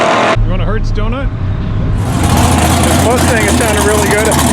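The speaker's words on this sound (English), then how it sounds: "Mustang, it sounded really good." A Ford Mustang drives past at a drag-racing event, its engine swelling into a loud, broad roar that builds and holds, with people talking nearby.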